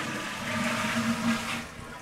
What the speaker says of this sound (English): This is how you flush the toilet.